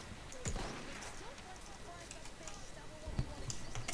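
Horse hooves galloping on the Suez map in the Battlefield 1 video game beat out irregular thuds amid battlefield noise, with a few louder impacts.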